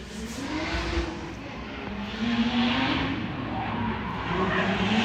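A drift car finishing a practice lap on a track screeches its tires in long sustained squeals while its engine revs rise and fall, loud and fairly close throughout.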